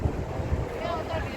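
Wind buffeting a microphone at an overlook at Niagara Falls, a low rumbling gusty roar that stays constant and close for the short stretch, with some speech-like sound mixed in.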